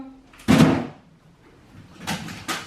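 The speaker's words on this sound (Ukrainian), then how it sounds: "То перше закрий ту ящичок." A small drawer pushed shut in a home, one firm knock followed by lighter bumps and knocks, with a voice talking nearby.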